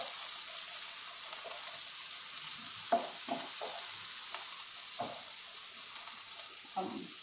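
Finely chopped onions and green chillies fry in a pan, a steady bright sizzle broken by several short scraping stirs of a spoon, close and continuous with no talking.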